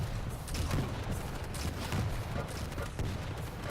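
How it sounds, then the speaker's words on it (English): Rapid machine gun fire in the arena shooter Quake Champions, a continuous dense rattle of shots at moderate level with no pauses, blended into busy game noise. "this is more of the machine gun, I guess"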